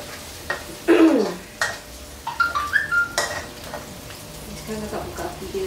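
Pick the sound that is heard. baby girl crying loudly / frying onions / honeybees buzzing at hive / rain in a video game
frying onions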